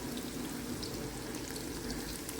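Karela (bitter gourd) slices crisping in hot oil in a home kitchen pan, a steady close sizzle and crackle that holds at an even level throughout, with no talking.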